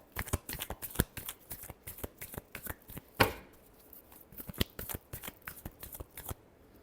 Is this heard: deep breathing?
no